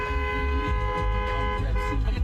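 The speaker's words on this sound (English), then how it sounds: "Dozens of vehicles drove by the football field at Pahrump Valley High School, honking and cheering in support of this year's senior class" Car horns toot repeatedly as dozens of vehicles parade past a high school football field to celebrate graduating seniors, the sustained honking layered over steady traffic rumble outdoors.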